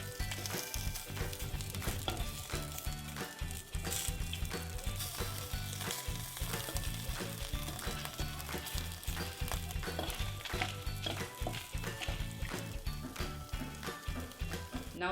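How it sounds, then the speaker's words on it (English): Fermented dried fish and dried red chillies roasting in a pan for a Manipuri snack, a steady close crackling sizzle with scattered pops and stirring scrapes throughout. "In the same pan, we are going to roast our fermented dried fish and dried red chillies."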